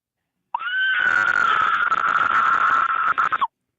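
A caller on a radio station phone line screams in a long, shrill, sustained shriek that rises, holds steady and then breaks off abruptly, with silence before it.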